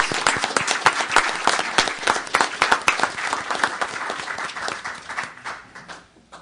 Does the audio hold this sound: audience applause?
yes